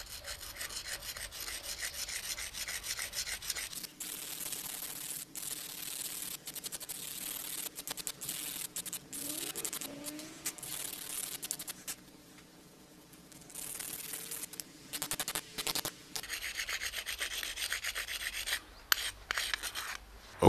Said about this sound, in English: first we have to completely remove the nick. And we do this with a whetstone